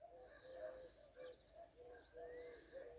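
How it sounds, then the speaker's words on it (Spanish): A rock dove cooing in the spring countryside near Granada, with soft repeated coos in a steady rhythm and faint chirps and outdoor ambience around it. "de un ave, una paloma torcal"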